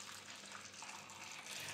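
Water poured into a cooking pot in a home kitchen, a steady faint splashing gush lasting under two seconds with no voices.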